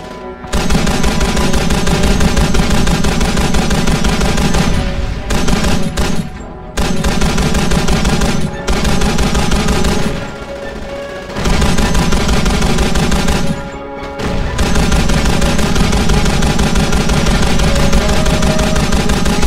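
Sustained, very loud machine-gun fire in the World War II shooter Call of Duty: The Big Red One, long continuous bursts broken by brief pauses, dense and close throughout.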